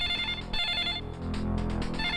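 A telephone rings in a tense Hindi action-film scene, its electronic trill repeating in quick bursts, loud and close, with no talk over it.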